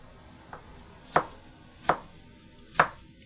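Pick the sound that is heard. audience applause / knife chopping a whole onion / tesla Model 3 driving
knife chopping a whole onion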